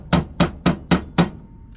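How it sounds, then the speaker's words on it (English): Five sharp, evenly spaced hammer strikes on a copper bracelet resting on the back of a vise, ringing close and loud with no voices. "I am going to get out the hammer"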